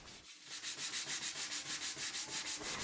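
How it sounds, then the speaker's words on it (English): Hand sanding of a painted door with 220 grit sandpaper: a steady back-and-forth rasp in even rhythmic strokes, close and fairly loud, with no talk. "I sanded it down again with 220 grit sandpaper"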